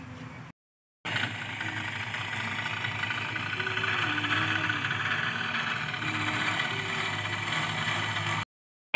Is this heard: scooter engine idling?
yes